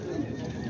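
Horse neighing at a Kyrgyz horse market, a brief whinny heard under crowd chatter and voices in an outdoor setting.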